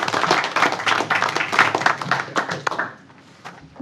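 Brief applause at a city council meeting for a staff member named Kathy, a small room of hands clapping fairly close and loud, thinning out after a few seconds.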